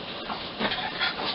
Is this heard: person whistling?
no